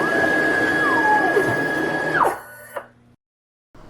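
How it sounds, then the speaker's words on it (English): The spindle of a CNC machine on a Buildbot router hums steadily with a pitch glide as it jogs over a flat surface, then winds down abruptly and goes silent. "Start by jogging the spindle over a flat surface about 2 or 3"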